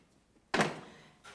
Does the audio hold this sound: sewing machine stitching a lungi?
no